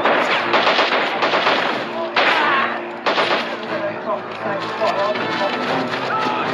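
Game gunfire in Men of War, with dense machine-gun bursts and rifle shots crackling steadily throughout. A voice speaks over the firing.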